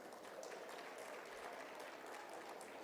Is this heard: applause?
yes